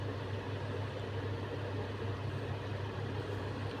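Ginger, garlic and mango being ground into a coarse spice paste for a bitter gourd bharua, a steady continuous droning whirr with a low hum running evenly throughout and no pauses.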